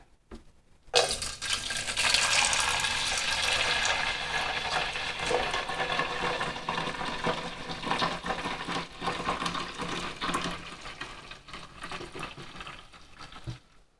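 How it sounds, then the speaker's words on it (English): Water pours steadily into a Pinter home-brewing container, a continuous splashing rush that gradually softens and changes tone as the level rises to the fill line, then stops. "then we fill her up with water to the fill line"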